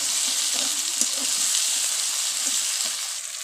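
Chopped tomatoes sizzle and fry steadily in a hot pan with chicken, a dense continuous crackle with occasional stirring knocks.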